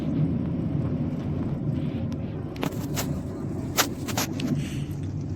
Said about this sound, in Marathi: हा आहे बघा गाडी काय छान हलते ना.